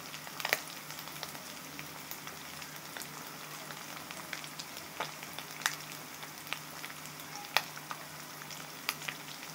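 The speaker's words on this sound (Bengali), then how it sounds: "দেখেন, আমাদের মাছ ভাজিগুলো হয়ে গিয়েছে।" Fish frying in very little oil in a home kitchen, a quiet, steady crackling sizzle with scattered sharp pops throughout and no talking.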